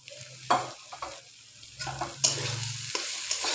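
Shrimp sizzles in a hot pan with mixed leafy greens, stirred in bursts with scraping clatters over a steady frying hiss, close and moderately loud.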